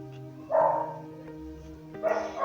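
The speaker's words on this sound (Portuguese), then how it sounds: "desculpa aí os latidos dos cachorros" Dogs barking indoors or nearby, two loud sharp bark bursts about a second and a half apart, with faint background hum between them.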